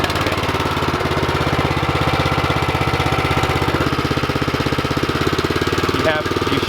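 Small gas engine on a farm tiller running steadily at close range with a fast, even pulsing throb, loud and continuous throughout.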